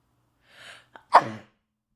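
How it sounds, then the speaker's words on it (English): A single close human sneeze, a short breathy intake followed by a sharp explosive burst, alone in a quiet room. "I have to sneeze."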